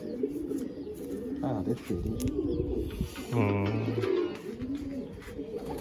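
Andhra flying pigeons in a loft coo in repeated low, wavering calls, close by and continuous, while people talk over them.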